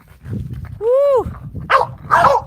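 Dogs out on a walk make a rising and falling whine followed by two sharp barks close by, over low rumbling background noise.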